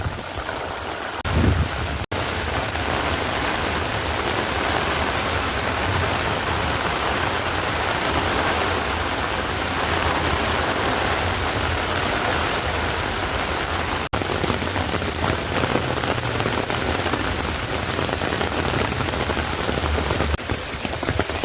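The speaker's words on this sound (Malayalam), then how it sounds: "ഇതാട്ട മഴ" Heavy rain pours steadily at Vadakkunnathan temple in Thrissur, Kerala, a dense, unbroken hiss of drops on surfaces that holds loud and even from start to finish, with no voices.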